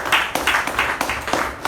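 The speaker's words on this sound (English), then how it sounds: "a nice round of applause." A close, brisk round of hand clapping from a small group at a Toastmasters meeting, with uneven overlapping claps filling under two seconds.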